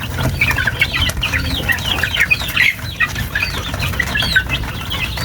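A flock of chickens and chicks keeps up dense, continuous clucking and peeping nearby, with wing flapping and scuffling mixed in and no talking.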